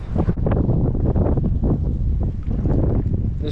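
Strong wind buffets the microphone while bank fishing for crappie and bass, a loud, continuous low rumble with gusty surges and no clear voices.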